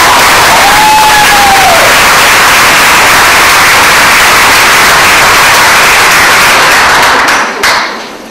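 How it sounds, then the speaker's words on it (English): A large audience claps and cheers at a teaching awards ceremony, a dense, loud, steady roar of applause that holds for several seconds before thinning out at the end. "It's okay to clap."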